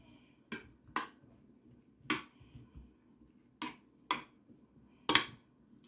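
A spoon clinks and scrapes against a baking tray while vegetables are spread out before roasting, six or seven sharp, close metallic taps at irregular intervals with quiet gaps between.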